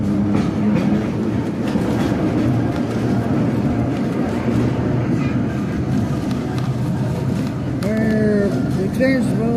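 Como-Harriet streetcar in Minneapolis rolling forward along its rails with a steady rumble and clatter, a brief metallic wheel squeal rising near the end, faint voices in the car.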